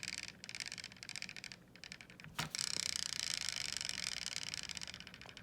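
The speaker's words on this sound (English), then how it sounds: "That is the sound of the pin protruding out" A protruding pin on the right wheel of a lifted Xiaomi Mitu stroller catches as the wheel spins by hand, giving a faint mechanical ticking and scraping over steady hiss, with one sharp click partway through.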